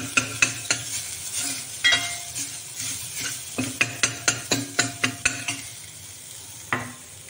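Spices fried in a little oil for a Marathi horse gram (kulith) soup, giving a soft steady sizzle punctuated by sharp clinks and scrapes of a spoon stirring against the pan, no voices.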